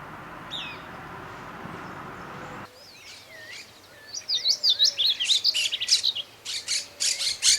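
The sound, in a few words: mosqueta parda flycatcher position calls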